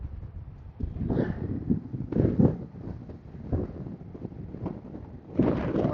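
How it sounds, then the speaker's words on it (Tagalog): Wind rushes and buffets against the microphone during a motorcycle ride near Makiling, Batangas, a steady low roar with gusty swells, loud and close throughout. "Mahangin."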